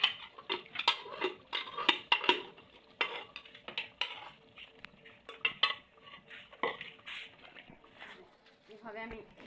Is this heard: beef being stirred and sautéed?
yes